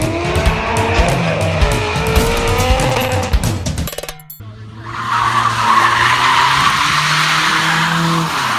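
A Toyota time-attack race car in Need for Speed roars through a gear-laden run, then cuts out abruptly before a loud, sustained tire squeal and skid hiss take over for the last few seconds.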